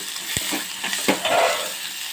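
Onion and tomato frying in a pan, a steady close sizzle with a few brief stirring scrapes and clicks, no talk.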